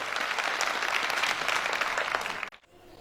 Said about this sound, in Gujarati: બધા પદયાત્રીઓને વિનંતી કરીશ, જોરદાર તાળીઓના નાદથી આપણે પીપળવાના ભક્તોને વધાવવા પડે.